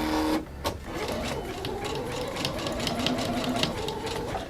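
A sewing machine runs a zigzag stitch through fabric, a fast, even mechanical whir with rapid rhythmic needle ticks, close and continuous after a brief pause at the start.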